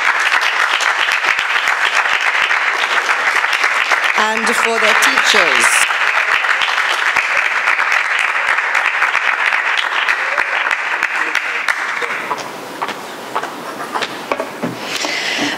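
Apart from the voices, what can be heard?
audience applause for the boys and their teachers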